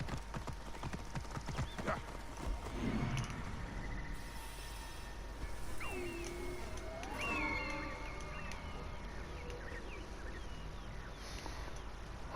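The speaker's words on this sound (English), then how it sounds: "Seems to be a lot of horsey activity going on here." Horses in Assassin's Creed Origins, steady clip-clop hoofbeats at a moderate distance with a couple of whinnies rising over the rhythm midway, faint under a low ambient background with no clear speech.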